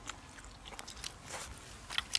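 Crunchy bites into spicy grilled fish, a close, dense run of crackling crunches and chewing with sharper snaps near the end, no voices over it.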